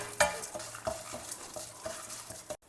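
Lentils (dals) browning in a pan with a steady sizzle, stirred in repeated short scrapes roughly every third of a second, close and clear, ending abruptly.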